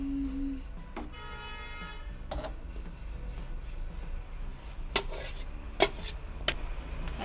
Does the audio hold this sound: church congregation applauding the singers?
no